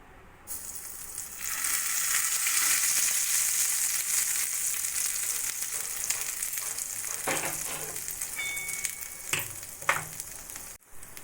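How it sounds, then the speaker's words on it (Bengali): Warm mustard oil poured over a mango kasundi mix, starting with a sudden, steady hiss and sizzle that holds for several seconds before thinning out, with a few clinks near the end, close and moderately quiet. "এবার উপর থেকে দিয়ে দেবো উষ্ণ গরম সর্ষের তেল"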